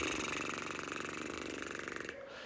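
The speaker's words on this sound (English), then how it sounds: "you have to put your lips together and let the air out like this" Lip trill used as a vocal warm-up, a loud, buzzy, rapidly fluttering rush of breath through loosely closed lips, steady for about two seconds before it cuts off, with no singing or talking.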